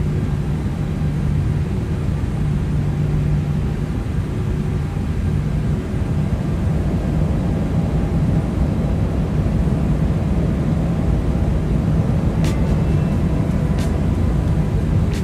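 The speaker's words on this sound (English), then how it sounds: "So we are now taxiing towards Terminal 1." Cockpit engine noise of an airliner taxiing toward Terminal 1 at Osaka-Kansai Airport in a flight simulator game, a constant low rumbling drone with faint clicks near the end.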